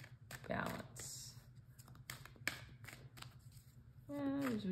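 Tarot cards are shuffled with soft riffling and tapping clicks close by, a person speaking briefly toward the end.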